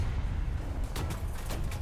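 Autocannon fire in War Thunder, a quick series of sharp bursts in the second half over a low rumbling engine bed, close and fairly loud, without speech.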